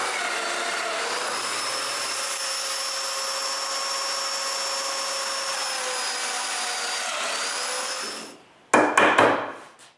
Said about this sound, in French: je marque l'emplacement des dominos que je veux utiliser et je les perce